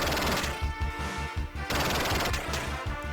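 Explosions and rapid gunfire from the run-and-gun game Final Zone II, a dense, loud, continuous barrage of repeated blasts and shots with no talking.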